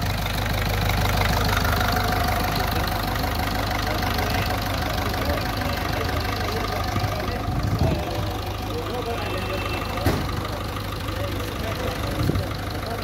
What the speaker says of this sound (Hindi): चार सिलेंडर इंजन है ये